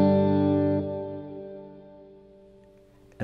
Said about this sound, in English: There's also a damping control that affects how the reverb decays.